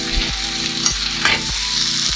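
Napolitan spaghetti frying in a pan to get a browned crust, a loud close sizzle with several rhythmic thumps and scrapes as the pasta is tossed and stirred, no voices.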